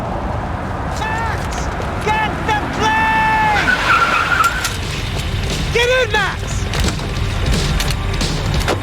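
Car in the Max Payne 3 video game driving and skidding, with repeated squealing tire skids over a loud engine rumble and chaotic background noise, and a voice talking briefly.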